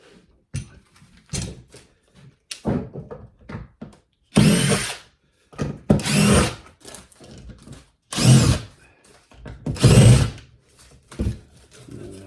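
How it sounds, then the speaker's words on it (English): A power drill drives a screw into wood, whirring loudly in several separate bursts separated by pauses, with the motor rising and stopping each time, close up. "So I screwed it in"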